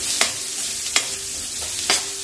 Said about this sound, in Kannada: ಜಸ್ಟ್ ಕಲರ್ ಚೇಂಜ್ ಆಗೋ ತನಕ ಸಾಟೆ ಮಾಡಿಕೊಂಡ್ರೆ ಸಾಕು.